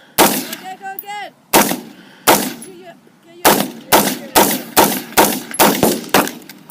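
AR-15 rifle fired outdoors, sharp loud gunshots: a few spaced single shots, then a quicker run of about six evenly paced reports, each with a short echo tail; a voice is faintly heard between shots.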